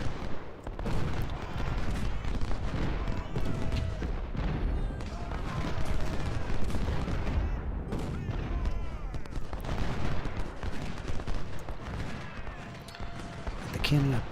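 Dense, continuous battle noise from the video game Ultimate General: Civil War, First Bull Run: crackling rifle volleys and booming cannon shots overlap in a busy, chaotic barrage, with voices occasionally underneath.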